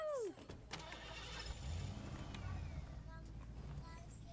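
A car in the Fortnite battle royale video game starts up and drives, its engine running as a steady low hum that swells slightly midway, with player chatter over it.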